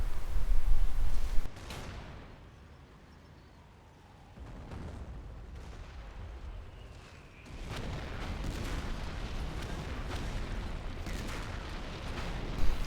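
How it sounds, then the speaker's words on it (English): Mortar and artillery fire in a wartime strategy video game, with a heavy blast at the start, a quieter stretch, then a sustained rumble of distant booms and gunfire. "aggressive use of mortars right now"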